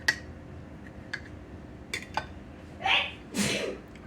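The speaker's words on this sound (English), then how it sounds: "I was in there sneezing." A person sneezes twice near the end during outdoor cooking of pulled pork, the loud, sharp bursts following a series of faint ticks and small clicks in a quiet setting.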